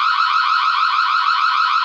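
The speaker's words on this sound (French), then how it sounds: "Je vais activer l'alarme pour que vous voyez ce que ça donne." A home security alarm siren sounds in a loud, continuous, steady electronic wail that holds at the same pitch and volume with no pauses and nothing else heard.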